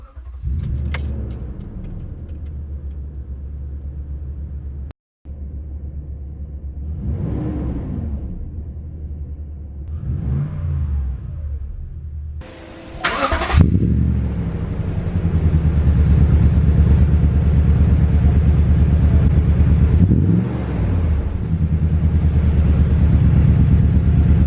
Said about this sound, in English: Going to start this up, rev it a couple of times, see what it sounds like.